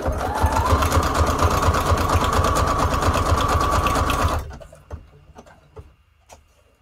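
A sewing machine runs a zigzag stitch on a junk journal tag in a fast, steady, loud mechanical rattle for about four seconds, then stops abruptly, leaving faint clicks and handling sounds.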